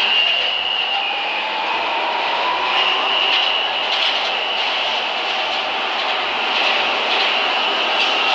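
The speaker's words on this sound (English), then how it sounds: "This is a Catlin-bound B train." A New York subway B train running, with a steady loud rumble and continuous rolling noise that stays constant throughout, with no talk over it.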